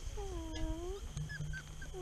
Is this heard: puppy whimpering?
yes